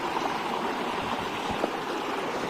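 A river flowing over stones, continuous close rushing and burbling water with a steady level and no voices.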